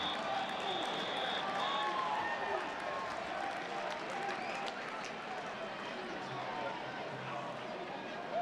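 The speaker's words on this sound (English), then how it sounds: "Crowd in the Rock today getting loud" A football stadium crowd at the Rock during a North Alabama vs Southern Miss game, a steady loud roar of cheering and noise that holds throughout, with faint announcer talk underneath.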